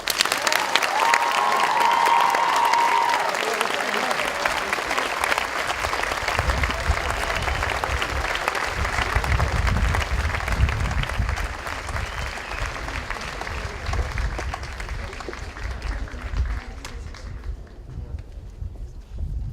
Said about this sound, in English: honor and recognize her extraordinary work with your applause